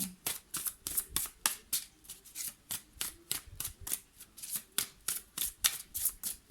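Tarot cards shuffled during a card reading, a brisk run of about twenty sharp crisp riffles and snaps in a steady rhythm, close and fairly quiet, no talking.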